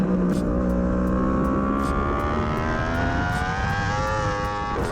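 A motorbike pulls out of a corner on a race track, engine tone climbing steadily as it accelerates, loud and close with wind rush over it and no talking.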